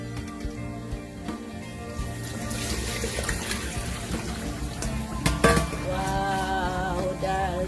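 Tap water runs while aloe vera is washed in a kitchen, a continuous splashing gush into a sink with clattering handling noises and a brief sharp knock partway through.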